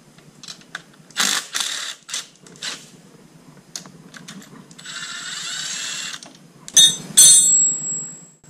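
A hand wrench working a 12mm bolt loose under a Yamaha TTR 125 motorcycle frame cradle: a series of close metallic ratcheting clicks and scrapes in short bursts, with a longer grinding ratchet run and sharp clinks near the end.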